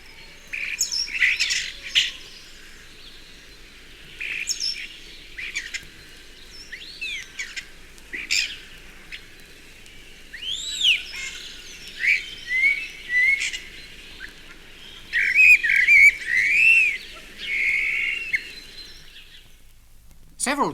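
A starling mimics another songbird in a town park, pouring out bursts of whistles, squawks and rapid chirps at close range with short pauses between phrases, over a faint hum of background noise.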